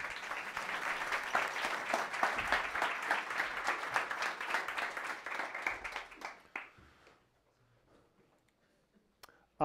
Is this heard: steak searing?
no